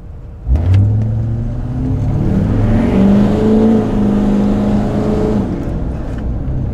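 A diesel truck engine starts from a dead stop and revs up as it accelerates, a steady droning roar rising in pitch and holding near and loud.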